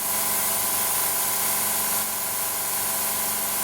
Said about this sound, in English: the compressor's running continuously